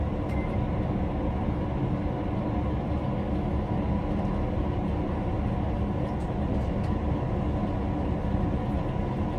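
A GWR shuttle train from Basingstoke pulling into Reading station, heard from on board as a loud, steady low rumble and roar of wheels and running gear, with faint high squeals.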